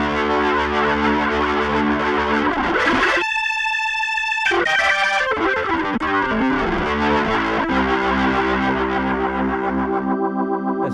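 Legend KeyB EXP organ clone with a Leslie rotary effect pedal engaged, playing rich sustained chords with swirling, distorted modulation, broken by a brief clean held chord and a burst of rapid changes, loud and without voices.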